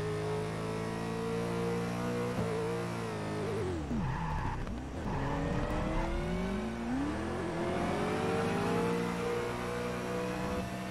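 V8 Supercar in Toca Race Driver braking hard, tires squealing in a long skid over a loud, roaring engine that drops in pitch and then climbs again.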